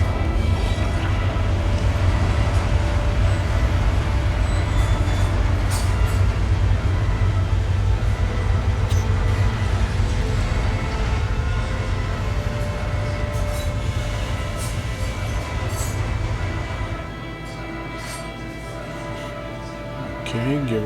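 Cargo bay doors lower on a ship in the video game Star Citizen, giving a steady, heavy mechanical rumble that runs continuously, then drops to a quieter hum near the end.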